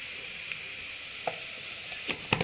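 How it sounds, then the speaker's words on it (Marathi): Quiet, steady sizzle of onion, crushed ginger and garlic frying in hot oil, broken by a few sharp clinks and pops of stirring. "तेलामध्ये थोडंसं एकदम नकळत कांदा, आले आणि लसूण ठेचून घातलेला आहे"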